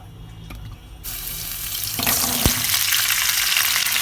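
Oil sizzles in a hot kadai on a stove, the frying hiss rising loudly and filling the pan steadily after a quieter start, with a brief clank partway through and no talking.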